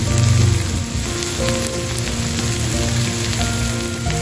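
Chopped capsicum (bell pepper) sautéing in a pan with turmeric and salt, a steady close sizzle and crackle that holds continuously with no talking.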